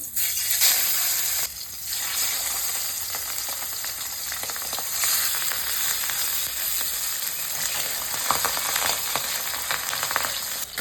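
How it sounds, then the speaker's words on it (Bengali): Pabda fish frying in hot oil, a loud, continuous crackling sizzle heard up close for several seconds, with brief spatters and no speech. "এই পাবদা মাছগুলো ভাজা হয়ে গেলে তুলে নেব।"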